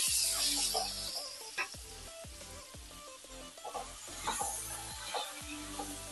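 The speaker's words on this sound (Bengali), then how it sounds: "কপিগুলোকে ঠিক একই রকম ভাবে ভেজে তুলে নেব।" Cauliflower pieces frying in hot oil give a steady sizzle, with stirring clatter and soft clinks in the pan, close up and with no talking.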